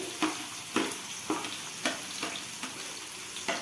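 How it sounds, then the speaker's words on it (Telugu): Chopped onion and two green chillies fry in a pan for a chicken masala curry, a steady sizzle broken by a few sharp stirring scrapes at regular intervals, with no voices. "బాగా ఆనియన్ మంచి బ్రౌన్ కలర్ వచ్చేంత వరకు వేపుకోవాలండి"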